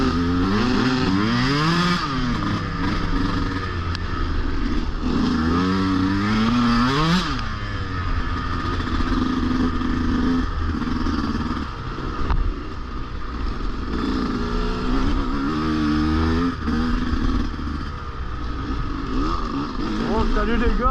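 A 2021 Sherco 125 enduro motorcycle is ridden hard, its two-stroke engine revving up and down in rapid rising and falling sweeps with clutch slips, loud and close, while a voice talks over parts of the ride.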